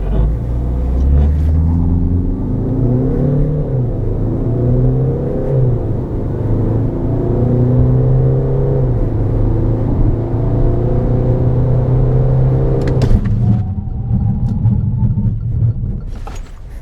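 Peugeot 2008 GT-Line with a 1.5L diesel engine accelerating hard through its gears, a steady loud droning rumble that rises in pitch with gear changes, then drops away near the end.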